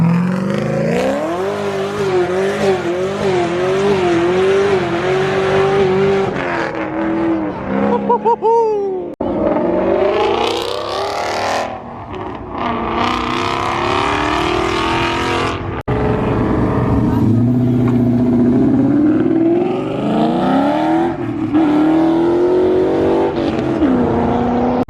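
A 1600 hp twin-turbo Lamborghini Aventador leaves a Cars and Coffee meet in Cypress, its engine revving hard in loud, rising accelerations broken by gear changes and throttle lifts, with the sound swelling and fading as it passes.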